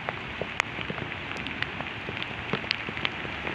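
Light rain falls beside a river walling project in Quezon City, a soft steady hiss with scattered distinct drops ticking at irregular intervals, fairly faint and without talk.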